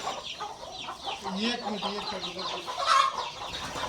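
A large flock of chickens on a big poultry farm clucks continuously in a dense, overlapping chorus, close and moderately loud, with one sharper squawk standing out near the end.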